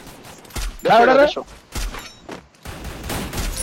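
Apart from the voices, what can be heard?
gunshots in the video game Free Fire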